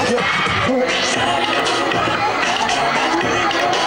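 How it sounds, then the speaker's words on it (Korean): A crowd of fans cheers loudly at a San Francisco concert, a continuous dense roar of shouts and screams with children's voices among them, running throughout and mixed with indistinct chatter. "열렬한 환호를 들을 수 있습니다"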